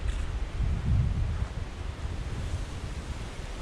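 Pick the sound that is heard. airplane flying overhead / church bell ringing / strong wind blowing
strong wind blowing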